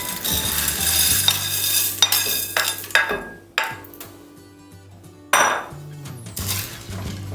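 Pasta is stirred in a pot of boiling water on a stovetop, with a spoon clanking and scraping against the metal pot in uneven bursts over a low bubbling hiss, close by with brief pauses.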